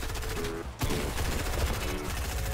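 Pistols-only video game firefight, a quick run of repeated pistol shots with a brief pause near the start before the firing resumes at a steady pace, moderately loud throughout.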